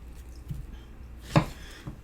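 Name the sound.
knife chopping strawberries into quarters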